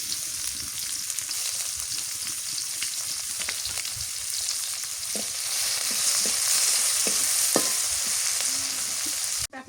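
Chopped onions frying in a pan for a Pohela Boishakh hilsa fish meal: a steady close sizzle throughout, with occasional utensil clinks and stirring, ending in a short clatter, no talk.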